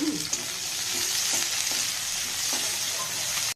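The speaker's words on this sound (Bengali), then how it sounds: "ক্যাপসিকাম পেঁয়াজ একসঙ্গে ভেজে নিলাম" Capsicum and onion fry together in a pan, a steady close sizzle running throughout with a few soft stirring scrapes, no talk.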